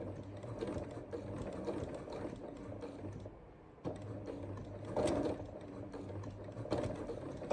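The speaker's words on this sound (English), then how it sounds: "I'm just going to sew right along that edge." A sewing machine runs steadily, stitching along the edge of scrap fabric, its motor hum broken by a brief pause before the stitching resumes, close up with no talking.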